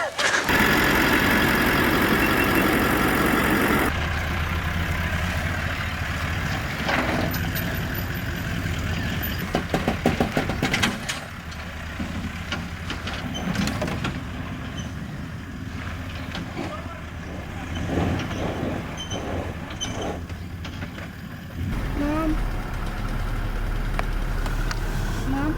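A four-wheel-drive vehicle's engine works off-road on the way to Tidbinbilla Nature Reserve, giving a loud steady drone with rattles and thumps from the rough ground, and a person talks over it.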